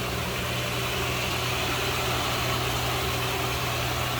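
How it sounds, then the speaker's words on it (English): A 1965 Ford Mustang convertible's inline six-cylinder engine idles smoothly and steadily, a close, even rumble with no revving and no voices. "Smooth running 6-cylinder."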